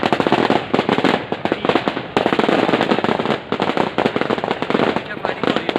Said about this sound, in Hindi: क्या फायरिंग हो रही है?